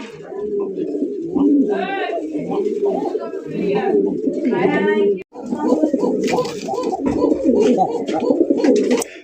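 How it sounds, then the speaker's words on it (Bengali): Fancy pigeons coo repeatedly and closely, soft throaty bursts layered over one another with chatty voices talking through most of it. "কালারিং রাজগোল্লা কবুতর"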